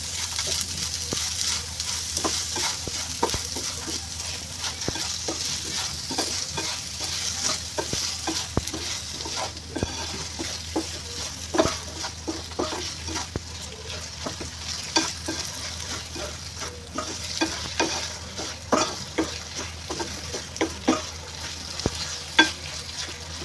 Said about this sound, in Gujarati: આ રીતે આદુ અને ગોળને બરાબર મિક્સ કરી દેવાનું છે